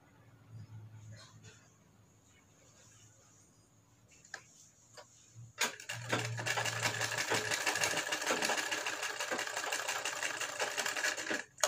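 A sewing machine stitching a U-neck collar starts with soft ticking and fabric handling, then breaks into a loud, fast, continuous run of stitching up close. No one speaks over it.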